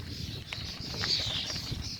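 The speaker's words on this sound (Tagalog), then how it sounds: "Uy, daming ibon." A dense chorus of many wild birds calling outdoors on a dead-end road outside Berlin, with overlapping high chirps running steadily over a low rumble of distant traffic.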